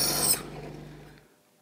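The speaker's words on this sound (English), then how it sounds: "it's while I'm sharpening the tip of the axe head." File rasping against the tip of an axe head, a short gritty scrape that is loudest at first, then tails off into a quieter rub before stopping.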